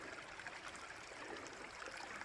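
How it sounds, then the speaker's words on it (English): Steady trickling and gurgling of floodwater running from a ditch, faint and continuous, with no voices. "So you can see the water running here"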